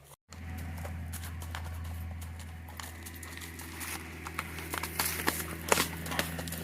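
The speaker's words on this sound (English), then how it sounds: "And we'll get him going back across the creek the other way." A champagne racking horse, gaited and offered for sale, moves along a trail across a creek, its hooves clip-clopping in a quick, even four-beat rhythm over a steady low background hum, growing slightly louder toward the end.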